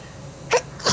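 Two quick sneezes from a person with rhinitis, each a short sharp burst close by, about half a second apart, over faint background hum.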